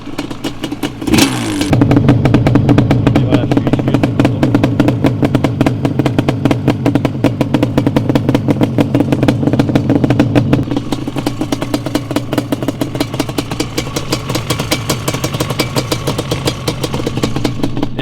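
A freshly rebuilt Yamaha Banshee 350 two-stroke engine starts with a sharp burst, then revs and idles in a loud, raspy, rapidly pulsing drone that stays close and steady.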